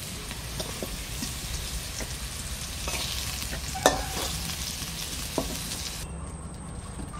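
Egg and snake gourd frying lightly in a pan, village style, with a soft continuous sizzle and occasional clinks and scrapes of stirring at close range.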